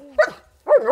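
A dog at a training kennel barks on command during obedience practice, giving two sharp, close, loud barks separated by a brief pause, with no talk over them.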